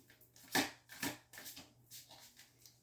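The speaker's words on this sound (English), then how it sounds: "I'm just going to shuffle this way, like the greats do it" Tarot cards being shuffled by hand, a few soft riffling bursts close up and quiet, spaced irregularly.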